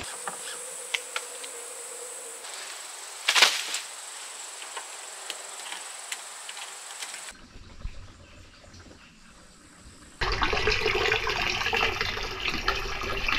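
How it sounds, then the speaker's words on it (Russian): Water from the house runs into the tank of a homemade outdoor shower set under a fir tree. Insects buzz at first, then the water gushes in abruptly near the end and keeps flowing loudly and steadily. "А сейчас идем набирать воду в бак прямо из дома."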